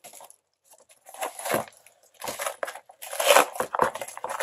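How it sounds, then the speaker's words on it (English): Bursts of ripping and crinkling close by, cardboard packaging of a Black Series Princess Leia figure being torn and crumpled in short irregular spurts with brief quiet gaps. "Just tear it open."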